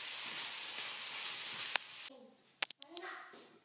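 Vegetables for a vegetarian Kajali Ambat sizzle steadily while frying in a pan until lightly browned, a close hissing that cuts off abruptly and gives way to a few sharp clinks and brief quieter frying.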